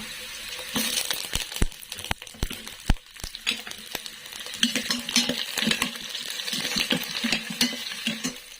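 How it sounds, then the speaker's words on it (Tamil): Chopped onion and green chillies tipped into a hot pan, giving a busy frying sizzle broken by sharp metallic clinks and scrapes of a spoon against the pan, close and fairly loud with no talking. "கட் பண்ணி வச்சுருக்க வெங்காயத்தை இப்போ ஆட் பண்ணிக்கலாம் பச்சை மிளகா போட்டுக்கலாம்"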